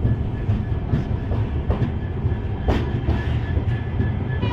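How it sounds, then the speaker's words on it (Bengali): A full special tourist train with a vistadome coach runs through the Dooars between Alipurduar and Chalsa, its steady low rumble and rhythmic wheel clatter continuous and close throughout. "15778 আমাদের ফুল স্পেশাল ট্রেন এখন।"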